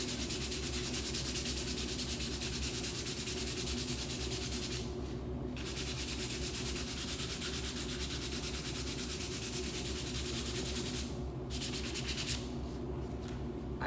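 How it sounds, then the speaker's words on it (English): Sandpaper of 120 grit rubs along the grain of a tulip wood base in steady, continuous back-and-forth strokes, loud and close, broken only by a few brief pauses. "So we'll sand this until it's smooth"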